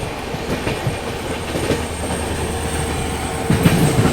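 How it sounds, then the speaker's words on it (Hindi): Onboard the Delhi–Yeshwantpur AC Duronto Express running at high speed past Nizamuddin, a steady close rumble with rhythmic wheel clatter and brief metallic squeals, a little louder near the end. "चलो बस पहुंच ही गई है निजामुद्दीन स्किप करने अपनी दुरंतो एक्सप्रेस"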